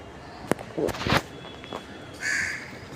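A crow caws nearby, a few sharp calls in the first half, followed by softer rustling and scuffing sounds close by.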